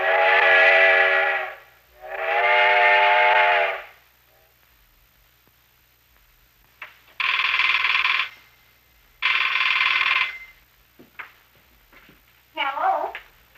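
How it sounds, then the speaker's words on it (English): A locomotive horn sounds like a steam whistle in long chimed blasts, two longer ones, then two shorter ones after a pause, followed by a brief squeal. "a horn that'll sound as close to the old steam locomotive whistle as possible"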